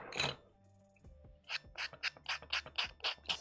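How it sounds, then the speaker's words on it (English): A hand file rasps across a rough edge on a model rocket part, a slow scrape first, then a steady run of about eight short rhythmic strokes, close and clear. "Here's a file."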